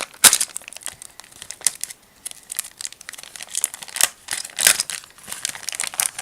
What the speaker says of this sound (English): how about we just tear it open instead?